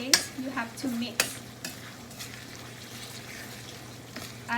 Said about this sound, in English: After add the curry paste, you have to mix.